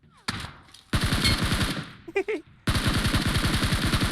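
Automatic gunfire in the PUBG Mobile battle royale game: two long, rapid bursts separated by a short gap with a brief crackle, loud and dense, with no one talking.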